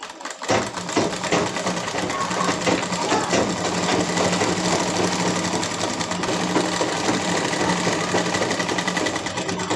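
A sewing machine stitches a girl's frock, whirring in a fast continuous mechanical chatter that starts after a brief pause and runs steadily and close to the end.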